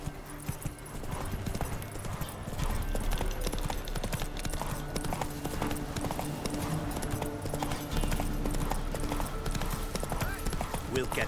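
Roach, the horse from the Witcher 3 video game, galloping with rapid rhythmic hoofbeats that run continuously under talking voices.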